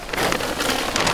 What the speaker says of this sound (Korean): 갑자기 비가 내리기 시작하더라고요.